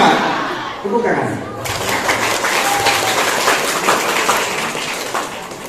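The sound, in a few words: audience applause at school assembly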